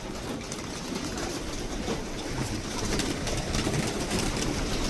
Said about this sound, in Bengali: সৌদি আরবে অনেক কবুতর